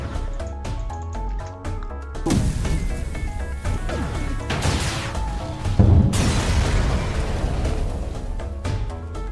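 Ship weapons firing and explosions in the spaceship game FTL, played as a Lanius ship: a run of sharp blasts and crashing booms, loud and dense, with a heavy burst midway, no talking.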